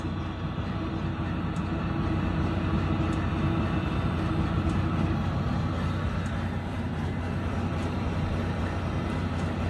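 A steady, loud blowing roar with a low mechanical hum runs continuously from a Webasto diesel bunk heater in a Volvo truck, pushing air, with faint ticks on top.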